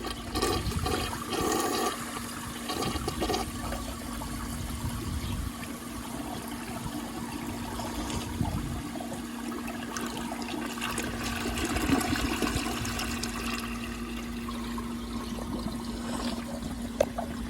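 A 1971 American Standard Cadet toilet flushes small washcloth scraps away, a loud close rush of water that swirls and drains steadily, then settles into a trickling refill over roughly seventeen seconds.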